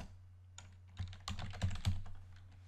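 Keys clack on a computer keyboard while JavaScript code for an Earth Engine app is typed, a scattered run of close, crisp clicks that bunch together toward the end over a low steady hum.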